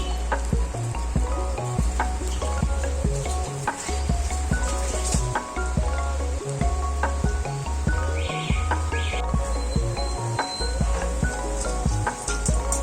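Spoonfuls of onion bhaji batter frying in hot oil: a dense, loud crackling sizzle that runs throughout, with a rhythmic low thumping underneath and faint birdsong in the background, no speech.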